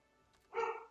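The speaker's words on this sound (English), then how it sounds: "Dogs are barking in the background." Dogs bark somewhere in a home, a single short, faint bark in the background after a quiet moment.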